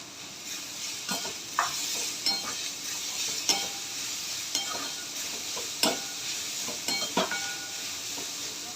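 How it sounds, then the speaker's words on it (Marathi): Bitter gourd fries in a pan with turmeric, sizzling steadily under repeated scraping strokes and light clinks of a spatula against the metal. "आणि आता हे कारलं टाकूया त्याच्यामध्ये"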